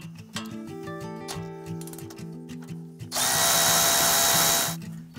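A power drill removes the ABS sensor and brake line holds on a 2019 Ford F150, with clicking and tapping for about three seconds before the drill runs loud and steady, close by, with no talking.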